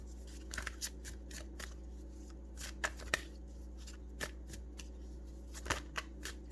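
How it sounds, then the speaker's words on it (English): Tarot cards are shuffled and drawn by hand in a quiet room: a series of soft, crisp riffling flicks and taps that come irregularly and sit close, over a faint low hum, with no one talking. "I just want to pull a couple more cards."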